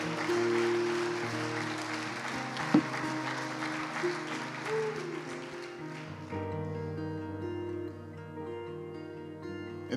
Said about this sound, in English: Let's give the children a hand clap today.